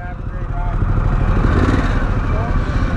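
A Harley-Davidson Pan America motorcycle engine runs close by, a loud steady rumble that rises slightly and holds a constant throb throughout, with a faint voice briefly under it.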